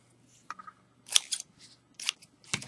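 Scissors snip through crochet yarn in a few short, crisp cuts spaced over a couple of seconds, close and fairly quiet with no talking.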